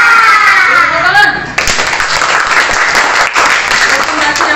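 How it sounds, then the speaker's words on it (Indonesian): Applause and hand clapping from a group of schoolchildren in an Indonesian classroom, a steady dense patter filling the room after a brief stretch of children's voices at the start. "Tepuk tangan."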